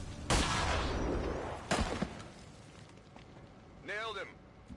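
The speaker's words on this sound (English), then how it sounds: "Shoot the bastard." Gunfire in the video game XCOM 2: two loud, broadband shot bursts near the start, the first with a longer decaying tail, followed by quieter game noise and a brief tonal electronic effect near the end.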